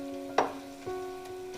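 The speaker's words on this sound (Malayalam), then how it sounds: "ഇതിൻ്റെ പച്ചമണം പോകുന്നത് വരെ ഒന്ന് നന്നായിട്ടൊന്ന് വഴറ്റി കൊടുക്കാം." Masala powder sautéing with fried ingredients for beef kuzhimandi in a pan, with a soft steady sizzle and a couple of brief stirring scrapes, close and fairly quiet.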